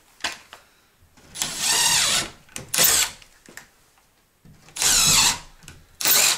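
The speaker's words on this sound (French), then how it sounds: "je prends une vis de 35 et je viens faire un pré-trou." A power drill bores a pilot hole for a 35 mm screw while a hemp brick partition and plasterboard wall go up, running in four or five short, loud bursts separated by brief pauses.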